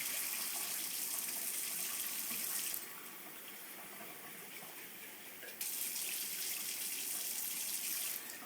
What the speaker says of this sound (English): then I'll pour the water out.